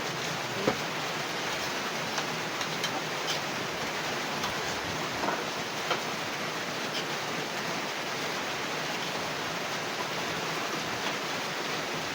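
Steady, heavy rain hisses continuously with scattered drops tapping, no voices, an even wash of sound throughout.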